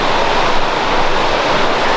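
Rushing river water beside a slippery rocky trail on a North Carolina waterfall hike, a steady, dense wash of flowing water close by, continuous and loud with no talking.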